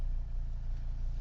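A Volvo XC90 diesel engine idles, with a brief steady low rumble and no voices.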